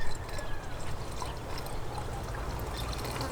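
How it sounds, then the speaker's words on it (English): Acid poured slowly and steadily from a container into a jug of water, a continuous soft trickling stream with no talk over it. "just pour that acid back in real slow"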